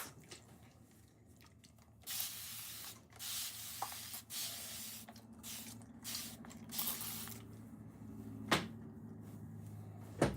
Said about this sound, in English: Where's my spray?